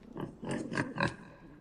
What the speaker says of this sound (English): We got a baby pig.